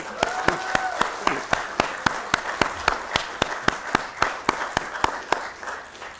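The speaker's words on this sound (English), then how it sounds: "Let's give a big round of applause." Rhythmic, evenly spaced clapping at a NASDAQ market closing ceremony, loud and close, as if from a small group or a single person keeping a steady beat.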